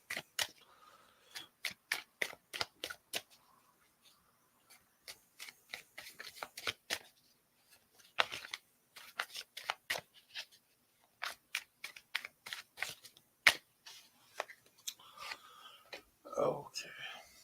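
Tarot cards shuffled by hand at close range, crisp riffling bursts in quick repeated clusters separated by short pauses, with soft rustling and a faint murmur near the end.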